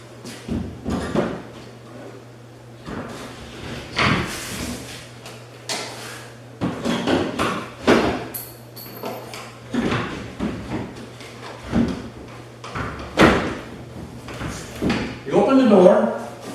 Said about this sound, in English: Now we're ready to put the door in the hole.